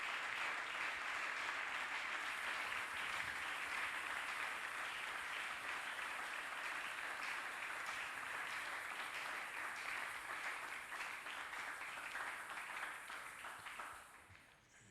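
A church congregation applauding, a dense and steady wash of many hands clapping that holds strong for most of the stretch and then tapers off toward the end.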